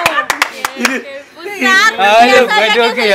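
A short burst of clapping from a small group, a few sharp claps then scattered applause, with people talking and laughing over it.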